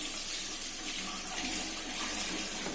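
Water runs steadily from a tap while a woven paper basket is washed, a continuous close hiss and splash with slight shifts in flow, no voices.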